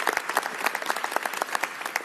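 Applause at a governor's bill signing honoring a state representative: a room of people clapping steadily and fairly close, dense and continuous for a couple of seconds with no talk over it.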